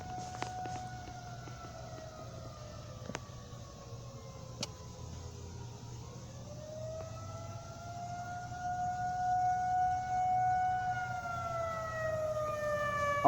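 Civil defense tornado siren sounding during a test, a steady rising and falling wail carrying from a distance over a low background hum, continuous throughout.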